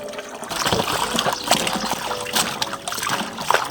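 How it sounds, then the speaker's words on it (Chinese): Pig intestines being washed by hand in water, with close sloshing, trickling and splashing as they are squeezed and stirred, and no talking. "接下来我们再洗最后一遍，再来给它轻轻的抓拌一下"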